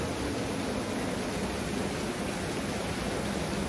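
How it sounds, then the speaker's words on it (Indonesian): Heavy downpour drumming steadily outdoors, a dense, loud, unbroken hiss of rain with no gaps, continuous throughout. "Ini hujannya deras sekali guys"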